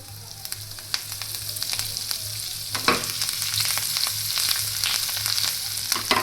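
A tempering of spices sizzles in hot oil over leftover pearl millet rotla: a loud, continuous frying hiss with stirring scrapes and small crackles, steady throughout.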